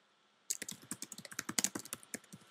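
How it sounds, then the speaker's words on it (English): Quick, close clicking of keys as someone types on a computer keyboard, a burst of irregular taps starting after a brief silence and running steadily to the end. "And I can start typing."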